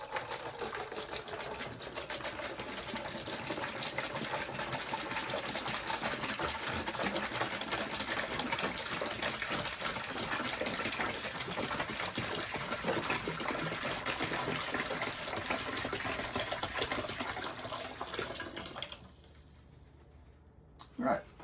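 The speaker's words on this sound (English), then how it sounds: "I'm going to connect it to the outlet on the pump." A small motorized pump pumping water from a bucket whirs steadily with a fast, buzzing rattle for most of the clip, then stops, leaving near quiet.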